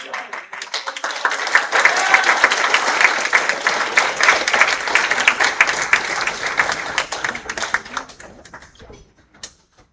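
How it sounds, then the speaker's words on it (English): Audience applause for young spellers at a Canadian spelling bee, a dense crackle of many hands clapping steadily for about eight seconds before fading out at the end. "one more round of applause for all our outstanding spellers"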